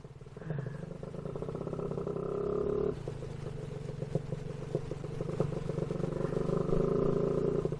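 A Casa Performance SST265 motorcycle roars while being ridden, a loud, steady engine drone that dips briefly as it shifts and then builds again, with no talking.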